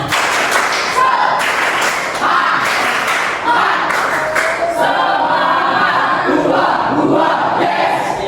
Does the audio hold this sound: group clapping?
yes